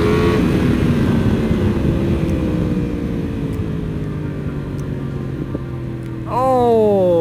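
A Yamaha R1M sport motorcycle engine runs and revs continuously, with a sharp rising rev near the end and crackling exhaust pops, loud and close throughout.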